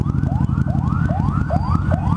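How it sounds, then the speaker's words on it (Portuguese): A wailing ambulance siren sweeps up and down repeatedly, loud and close, over a low rumble of engines and heavy city traffic in São Paulo. "Agora nós estamos atrás de uma ambulância aqui."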